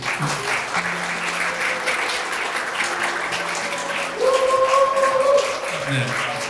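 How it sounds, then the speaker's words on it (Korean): Steady applause from a talk-concert audience fills the whole stretch, a broad wash of clapping that swells slightly toward the end with faint tonal sounds underneath. "여러분 박수로 맞이해 주십시오"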